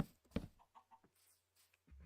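Minecraft chickens on a modded Java Edition farm give a few short, quiet clucks with gaps of near silence between them; no one speaks.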